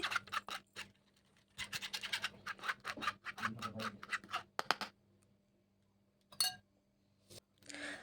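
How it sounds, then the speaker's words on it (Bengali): A utensil mixes flour-based whipped frosting cream for cake decorating in a bowl, coming in bursts of close scratchy scraping and light clinks separated by quiet pauses. "ময়দা দিয়ে হুইপ ক্রিম তৈরি করা এবার এইভাবে আমি ভালোভাবে মিশিয়ে নিচ্ছি"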